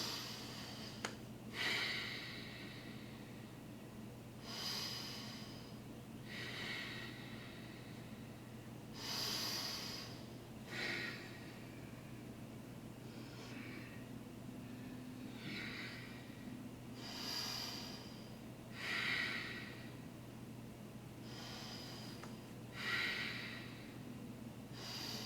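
Slow, deep breaths during a prenatal core yoga exercise, each inhale and exhale rising and fading at a calm, regular pace, soft and close over a low steady hum.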